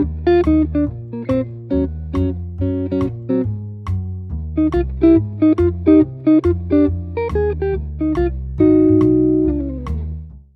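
Guitar chord melody played solo with a counter melody moving underneath, plucked chords ringing in a steady rhythm, close and clear, ending on a sustained chord.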